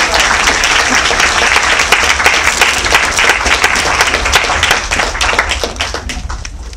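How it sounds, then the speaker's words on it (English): An audience at a league speaking event claps after a talk, a dense, lively burst of many hands that holds steady before gradually thinning out toward the end. "another round of applause"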